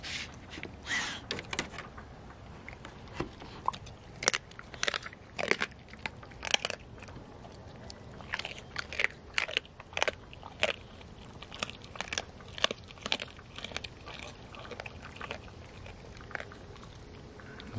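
A pitbull chewing raw food such as chicken feet, with repeated close, loud crunches and wet bites arriving in irregular bursts, each bite sharp and separate against quiet pauses.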